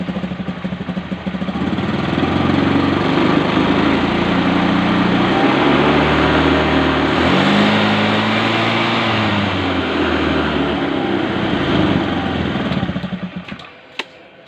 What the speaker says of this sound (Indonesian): Ini mesin sudah posisi hidup